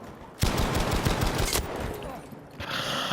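Gunfire in the shooter game Battlefield 5 during an underground Conquest match, with a sniper shot among rapid bursts: a loud sharp crack opens a rattling string of rounds, another sharp report follows, then a quieter burst near the end.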